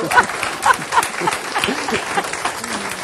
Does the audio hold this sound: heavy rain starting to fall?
no